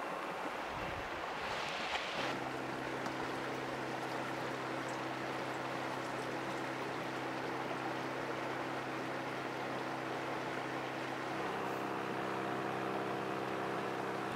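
A portable two-stage water filter pump with carbon block and UV light sends a steady stream of water through a hose into a 2-gallon container, a continuous pouring rush with a low motor hum underneath that shifts slightly near the end.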